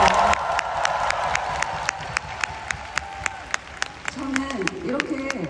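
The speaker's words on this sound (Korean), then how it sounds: "다시 한번 효진님에게 박수 한번 부탁드립니다" Concert audience applauding at a Seoul concert, a sustained wash of clapping and cheering in a large hall that fades gradually, with loud crowd noise and a brief voice near the end.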